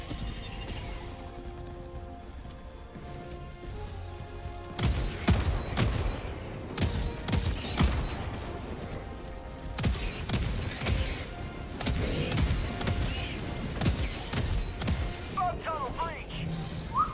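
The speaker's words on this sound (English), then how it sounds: "Requesting sentry. The turrets are coming." In the game Helldivers 2, sentry turrets unleash rapid bursts of automatic fire mixed with heavy thuds and explosions, loud and continuous, as players talk over the battle.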